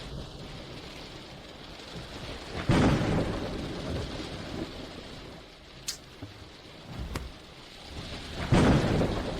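Steady rain falls throughout, broken by loud rumbling thunder claps, one near the start and another toward the end, with smaller crackles in between.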